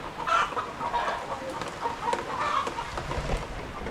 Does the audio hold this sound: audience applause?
no